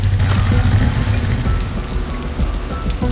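Steady heavy rain falling on surfaces outdoors, a loud dense patter with a low rumble beneath, continuous throughout with no voices.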